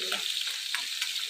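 Katla fish pieces fry in hot oil in a pan, a brief close, steady hissing sizzle with no one talking.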